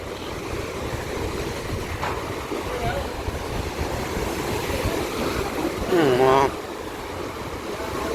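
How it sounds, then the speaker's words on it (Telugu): Steady roar of surf and wind noise at a Vizag beach throughout, with strong waves breaking continuously; a brief whistle-like tone rises near the end. "ఇక్కడ ఇంకా అలలు గట్టి వస్తున్నాయి"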